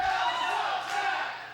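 Wrestling crowd at a UCW-Zero event chanting and shouting together, a loud sustained roar of many voices through the whole stretch.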